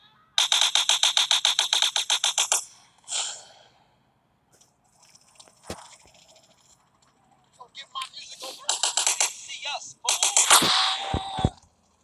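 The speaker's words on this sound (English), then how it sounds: "I'm just gonna shoot random people right now for now." Rapid bursts of gunfire from shooting in GTA San Andreas, a fast regular volley early on, then scattered shots and further bursts toward the end, loud and close.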